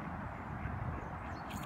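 Ducks gather to be fed on an outdoor walk, quacking in a busy overlapping chorus over a steady outdoor background, fairly close and continuous.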